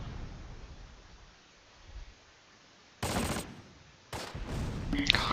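Mortar fire in the Close Combat: Last Stand Arnhem war game: two sharp, loud blasts about a second apart over a quiet windy rumble, each ending in a brief crackling burst.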